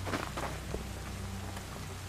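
Rain falls in the horror video game Devour, a soft, dense patter of drops on surfaces with a low steady hum beneath and a few brief louder taps, continuous and fairly close, no talking.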